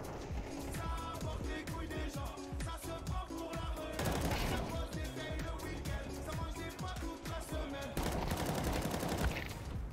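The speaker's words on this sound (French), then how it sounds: "Je vais jouer la M4A4, on va voir." Rapid gunfire in Counter-Strike 2 from an M4A4 rifle and other guns: dense, continuous bursts of sharp shots over about ten seconds, loud and busy, with no speech.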